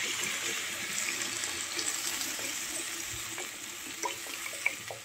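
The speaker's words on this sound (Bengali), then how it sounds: "এর ভিতরে আমি দেবো এখন জল" Water is poured into a simmering vegetable and fish curry with five winter vegetables, green chillies and panch phoron, making a steady hissing, splashing pour close by with a few small drips toward the end.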